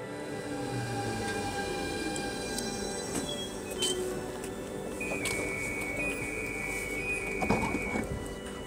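Train cars rumble steadily with clattering and a sustained metallic wheel squeal, heard up close from inside or beside the carriage, with no talking.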